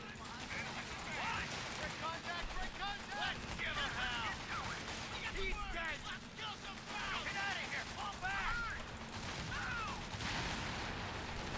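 Gunfire in a World War II combat video game, scattered shots and bursts rattling steadily at moderate loudness under shouted voices and dialogue that run throughout.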